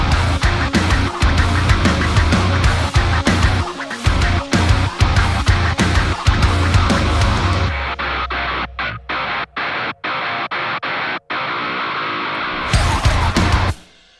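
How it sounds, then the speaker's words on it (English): DJ scratching in a cover, over a loud, dense beat, turning choppy and stuttering in the second half with quick cut-up bursts and short gaps. "we have the DJ scratching, which TJ crushed it on"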